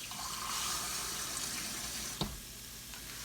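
Water poured into an Instant Pot for chicken stock, a steady, moderately loud splashing stream running throughout, with a sharp knock near the end.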